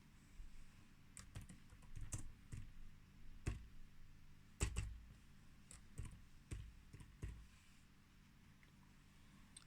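Text is typed on a computer keyboard in a quiet room, with sparse, irregular key clicks and taps coming in small clusters with pauses between them, close and fairly soft, and no voices.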